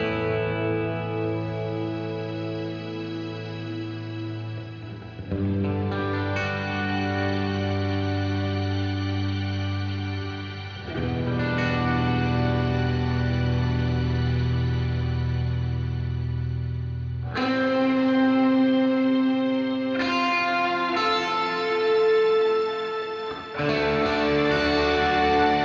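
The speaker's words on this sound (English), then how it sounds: "But when we add in the Mel9 orchestra" Electric guitar chords ring out through an Electro-Harmonix Mel9 orchestra synth pedal, with lush sustained strings-like tones and long reverb, each chord changing every few seconds.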